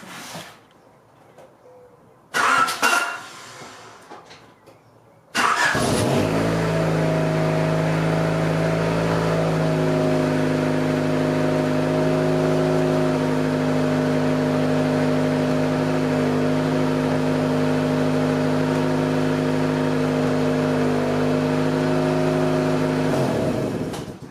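A 1988 Honda CRX Si engine cranks and starts after a few quiet seconds and a brief starter burst, then settles into a loud, steady idle that runs to the end.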